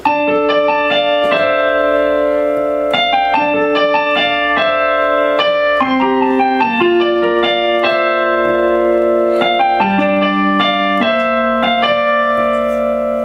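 Solo piano plays part two of a song, steady chords and melody moving across about thirteen seconds, close and clear with no voices.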